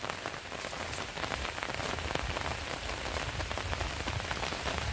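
Heavy rain pours down steadily, a dense hiss of drops drumming on surfaces close by, with no pauses and no voices.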